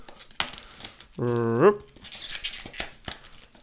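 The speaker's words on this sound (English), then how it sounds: "let's quickly take a knife and cut this bad boy open" A knife cuts open a plastic-wrapped box for 7Hz Zero 2 and Ziigaat Nuo earphones, producing crinkling plastic rustles and scrapes, with a brief tonal vocal-like squeal in the middle.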